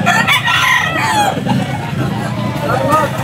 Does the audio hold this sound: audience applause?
no